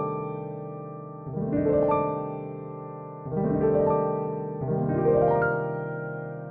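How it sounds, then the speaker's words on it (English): Piano chords from a chord generator plugin in Ableton sound in three separate swells, each opening with a rolled, rising spread of notes and then sustaining and fading gently. "Very humanistic feeling piano playing."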